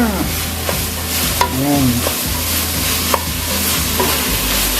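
Carrots sautéed and stirred in a pan for corn soup, a loud close sizzle with repeated scraping strokes of a utensil, and a brief spoken word over it.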